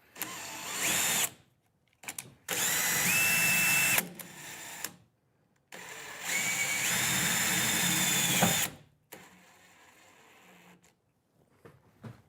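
A power drill whirs in several bursts, revving up and winding down as screws are driven into a campervan rear door panel, with short pauses between runs and no voices.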